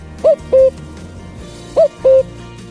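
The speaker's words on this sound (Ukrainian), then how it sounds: "відразу починають закликати подруг своїм дзвінким ку-ку" A male common cuckoo calls its two-note cu-coo twice, each a clear falling pair of hoots, loud and fairly near over a faint background.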